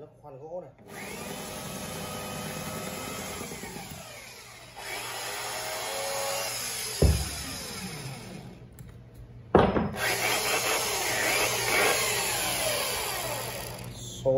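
A 220V electric drill bores into wood, running loud and close for most of the stretch with a short stop, a few sharp knocks and a restart.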